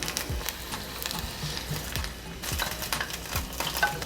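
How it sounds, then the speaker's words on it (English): Battered onion nuggets fry in hot oil, giving a continuous soft crackling sizzle broken by light scraping and spoon taps, with no voices. "We are going to let these fry just until golden brown"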